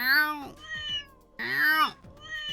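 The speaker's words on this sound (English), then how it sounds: "He said, meow, go." Two long cat meows in the Trails in the Sky video game, each a bright, drawn-out, falling call, loud and close with a short gap between them.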